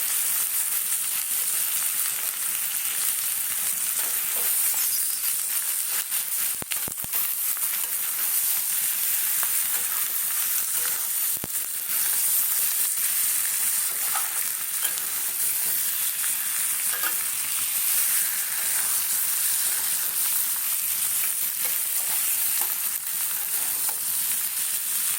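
Boiled potatoes frying and being stirred in a pan of hot oil for aloo kosha, a steady close sizzle running throughout with a few scraping stirs and no voices.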